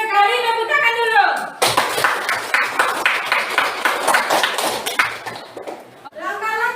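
A classroom of pupils claps during an Indonesian lesson in a quick, rhythmic burst of several seconds, with a teacher speaking just before and after.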